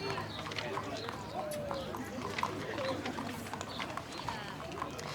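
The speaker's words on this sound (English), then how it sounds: "It's a little Arabian horse, a little bay Arabian." A small bay Arabian horse clip-clopping at the West Virginia Strawberry Festival horse and carriage parade, steady hoofbeats at moderate distance under continuous commentary and crowd noise.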